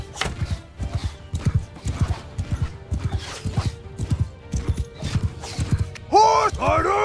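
Horse hooves clip-clop in a steady rhythm in Mount and Blade II Bannerlord as the wounded mount moves, with a neigh near the end, all mixed under game talk and battle noise.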